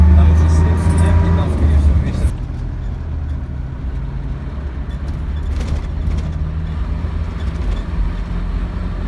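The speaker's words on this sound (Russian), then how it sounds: "можно воспользоваться маршруткой типа той, на которой мы сейчас передвигаемся" Inside a moving marshrutka minibus in Russia, the engine rumbles steadily and the road noise drones, with a louder engine roar at the start, while people talk throughout.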